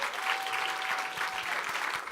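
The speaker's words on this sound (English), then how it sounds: "give them a round of applause" Brief, steady clapping from an audience at a White House Correspondents' garden brunch, filling the short moment at an even level.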